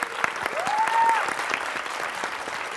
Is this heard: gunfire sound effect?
no